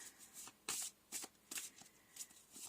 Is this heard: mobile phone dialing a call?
no